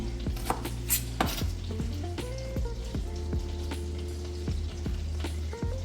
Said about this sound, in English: I hear my pot heating up. It's sizzling a little bit.